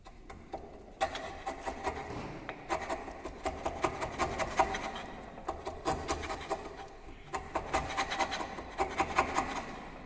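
Wood being chipped with a chisel for a T-lap joint: irregular clusters of scraping, rasping strokes, fairly close but quiet, in bursts separated by short pauses, with no talking.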